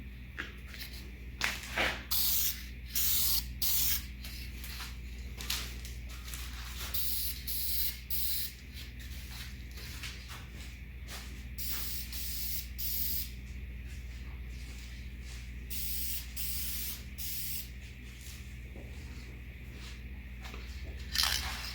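Lacquer sprays onto the stained corners of a wooden coffee table during restoration in many short, close hissing bursts, separated by brief pauses.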